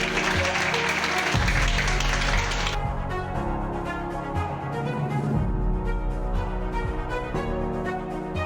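A crowd applauds steadily throughout at an official presentation ceremony for a youth association, a dense wash of clapping that stays loud and continuous, with music or voices faintly underneath.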